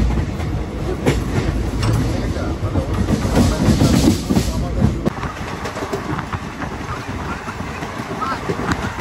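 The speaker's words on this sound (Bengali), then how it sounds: "ওই দিকেও দেখুন অন্য ট্রেন, আরও নানান ট্রেন যাতায়াত করছে" A train rumbles past at a busy railway station on the Aranyak Express route toward Jangalmahal, with steady rail noise and wind buffeting throughout, and faint clatter rising near the middle.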